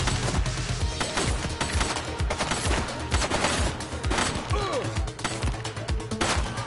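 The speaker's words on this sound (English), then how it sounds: "Shots fired!" Rapid gunfire rings out in a police game set on city streets, dense volleys of sharp shots and bursts fired in quick succession, loud and sustained throughout.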